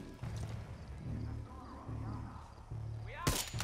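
Far Cry 6 gunfire: several heavy shots thump at intervals, with a sharp, loud blast near the end.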